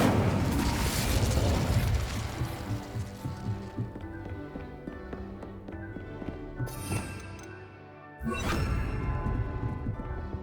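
An Incendio fire spell from Hogwarts Legacy erupts in a loud, roaring fiery blast that fades over a couple of seconds, followed later by a second sharp, booming burst, all over a low game backdrop.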